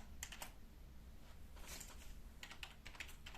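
Keys clatter on a computer keyboard while a Windows command is entered, coming in short quick bursts of taps separated by pauses, faint and close, with nothing else heard.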